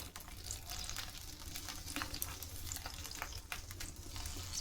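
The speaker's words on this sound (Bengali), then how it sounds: "তেলটা আরও ফুটতে শুরু করেছে" Amla and curry leaves fry in bubbling oil, giving a steady close crackling sizzle with scattered sharp pops and spits throughout, and no voices.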